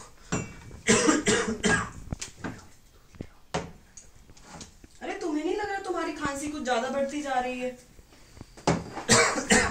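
A man coughs in a domestic scene, several harsh, rough bursts that come in clusters, with a stretch of talking between them.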